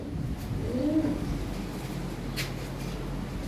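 High-quality pigeons kept for sale cooing, a soft low rolling coo heard once clearly near the start over a steady background hum, with no speech.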